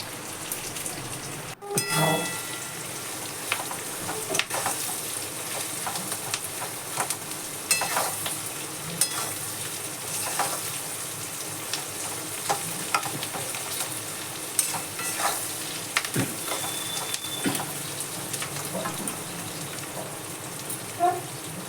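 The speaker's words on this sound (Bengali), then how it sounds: "অল্প ফ্রাই করতে হবে স্বাদ মতো লবণ দিয়ে দিলাম" Chicken frying in a pan for chilli chicken, with a steady crackling sizzle and scattered scraping stirs across the whole stretch, fairly quiet and even, with no talking.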